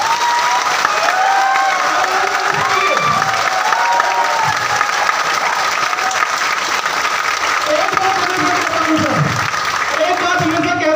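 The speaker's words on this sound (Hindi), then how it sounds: "एक बार नीलम सर के लिए ताली बजाएंगे।" An indoor audience claps in steady, dense applause with some cheering, loud and continuous, while a voice talks over it intermittently.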